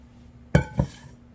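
Dough for hamburger rolls scooped out of a mixing bowl: two soft, close thuds with a faint clink of a utensil against the bowl, otherwise quiet.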